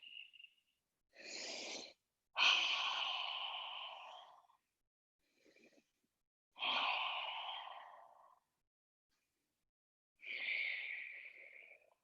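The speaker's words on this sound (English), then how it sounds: "Take 3 breaths." Slow, deep breaths during a yoga class, with long airy inhales and exhales separated by silent pauses, heard close and alone at low volume.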